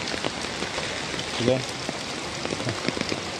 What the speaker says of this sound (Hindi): बहुत झमाझम बारिश हो रही है आज तो